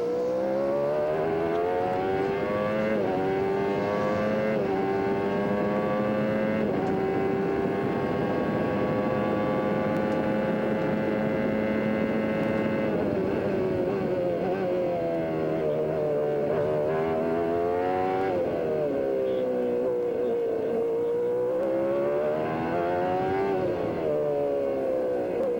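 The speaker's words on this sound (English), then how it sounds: "Listen to those gear changes." An IndyCar at Mid-Ohio in 1994, heard from the onboard camera: a loud, sustained engine whine climbs and drops in pitch again and again as the gears change, with no speech.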